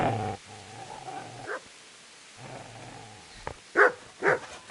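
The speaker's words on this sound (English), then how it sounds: "Get away, you mutt!" A dog in the video game Kingdom Come: Deliverance growls low and steadily in two long stretches, then gives a few sharp, loud barks near the end, close and with no talk.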